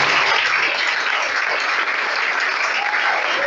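A church congregation breaks into sustained applause, a dense, even wash of clapping from many hands filling the room throughout, with no pauses.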